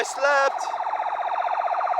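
A loud ambulance siren wails in Kampala, Uganda, opening with a sharp yelp and then moving into a rapid, steady warble close by for about two seconds.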